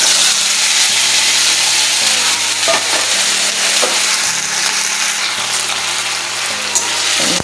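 Onion, garlic and ginger paste sizzles steadily in a frying pan while it is stirred, a continuous broadband hiss with scraping strokes. A low, repeating tonal hum runs underneath throughout.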